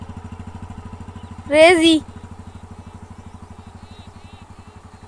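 A learner motorcycle on a village road idles and putters with a steady, even engine pulse, briefly covered by a loud shout partway through, then chugging on alone.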